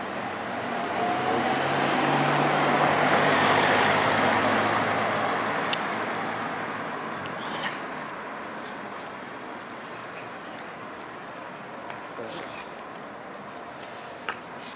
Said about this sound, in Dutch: ik hoor dat er een auto afkomt